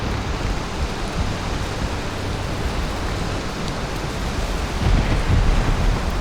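Steady rain falls in the video game Valheim, a dense, even hiss of broadband noise with a slight swell in intensity near the end, heard alone without speech.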